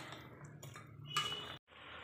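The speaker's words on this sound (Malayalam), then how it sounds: "ഇത് ഇളക്കി യോജിപ്പിക്കുക." Chicken curry with chilli powder being stirred in a pot, giving soft, quiet scraping and light utensil clinks over a brief stretch, with a short gap of silence near the end.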